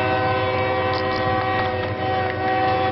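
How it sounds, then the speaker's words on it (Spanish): A freight train carrying migrants in boxcars rolls past, loud and near, with its whistle blowing over the constant rumble and clatter of the cars through the whole stretch. "De pronto, se escucha el silbido del tren."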